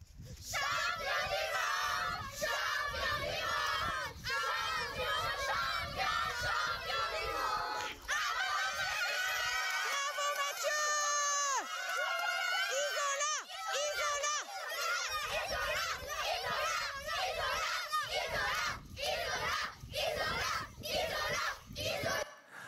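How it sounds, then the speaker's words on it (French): Schoolchildren cheering and clapping for their sports champion, a loud, sustained crowd of young voices with shrieks, shouts and scattered applause, with brief pauses and bursts of clapping toward the end. "quand on voit ces enfants qui applaudissent, qui crient à la gloire de leur champion"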